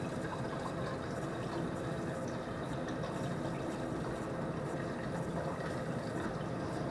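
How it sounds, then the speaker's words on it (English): Homemade tea wine poured into a bottle, a steady close liquid trickle and gurgle running continuously without pause. "I'm just going to start pouring into the bottle"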